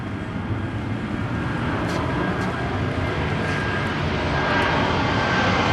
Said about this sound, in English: Live near the airport, so lots of airplanes.